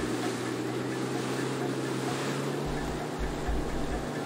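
Jet ski engine droning steadily in the video game Far Cry 4, a continuous low hum over washing water noise, fairly loud and unbroken.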